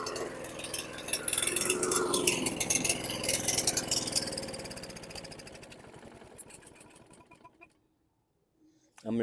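The small engine of a 2018 Toro Recycler 22-inch lawn mower runs rough and uneven, knocking and sputtering close by. It slowly weakens and dies out, and after a short silence it catches again briefly.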